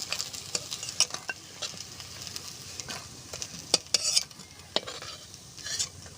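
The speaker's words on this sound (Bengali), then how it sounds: "বড়াগুলি সুন্দর করে ভাজা হয়ে গেছে আমি তুলে নেব" Bora fritters frying in hot oil in a village Bengali kitchen give a soft, continuous sizzle, with scattered utensil clinks and scrapes as they are stirred and lifted out, with no talking.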